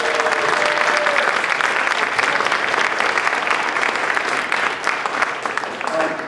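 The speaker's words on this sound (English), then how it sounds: "give the Jewish Community Action Team a big round of applause from over here" An awards celebration audience breaks into sustained, dense clapping, loud and close, holding steady for several seconds before tapering slightly, with faint voices underneath.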